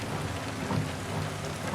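Rain falls in American Truck Simulator while a Ruda 389 glider truck drives, a steady close hiss of drops with a low rumbling undertone and no talk.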